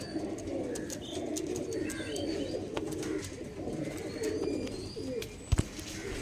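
Low, throaty cooing from Punjabi, carrier and Chennai breed pigeons rolls on continuously at close range, with a few faint chirps and a sharp knock near the end.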